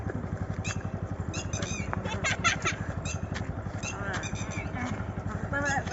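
A scooty engine runs close by with a steady low chugging throb, while people talk and call out over it.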